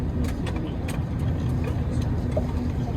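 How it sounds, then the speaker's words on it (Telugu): Tour bus engine idles steadily at close range with a low, even rumble, and faint voices are heard over it. "బస్సు స్టార్ట్ అయిపోయింది."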